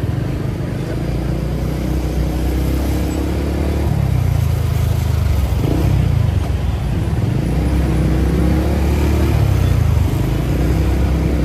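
A TFX150 motorcycle rides through slow traffic, its engine droning loudly and steadily with rises and dips in revs, while other road vehicles rumble around it.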